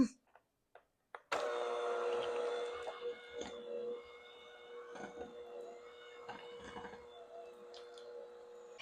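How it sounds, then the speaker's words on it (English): After a few soft clicks, an electric mixer starts up and beats butter with sweetener at low speed for a low-carb lemon pound cake, giving a steady motor whine with faint rattles and knocks. "I have beaten in the butter with the sweetener at low speed right now"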